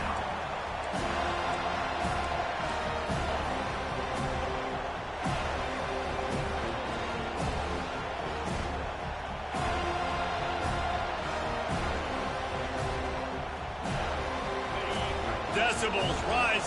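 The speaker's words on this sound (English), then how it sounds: "Decibels rising as the crowd gets behind this defense on 3rd down" A college football stadium crowd roars as the defense lines up on third down, a broad, sustained wall of cheering and noise that swells and stays loud, with a commentator's voice running over it.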